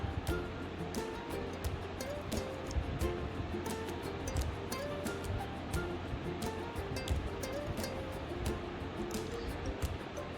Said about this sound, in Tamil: இப்போ நான் சோளம் ரெண்டாவது போட்டுக்கிறேன்